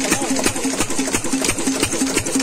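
A running engine driving a pump that lifts groundwater, its loud, close, rapid mechanical chugging and knocking beating steadily and without break.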